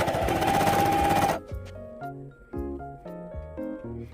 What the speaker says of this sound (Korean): 밑단 박음질 하러 갈게요.